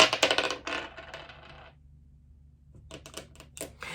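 Dice rattle and clatter onto a hard surface during a tarot reading, a dense burst of clicks that fades out, then a second quieter series of knocks after a brief pause, heard alone without talk.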